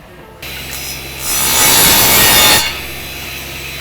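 Bamboo being shaved with a hand tool, a continuous scraping rasp that rises louder for about a second in the middle, close and steady over a low background hum, with no talking.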